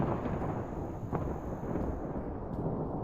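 Rumbling thunder in a Malaysian detective video game, a dense, sustained low roar with a sharper crack near the middle, steady and close, with no talk over it.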